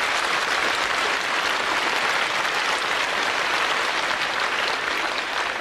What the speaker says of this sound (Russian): Аплодисменты настоящей женщине.